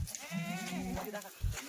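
A Kathiawadi goat gives a single drawn-out, wavering bleat at close range, followed by a short rough noise.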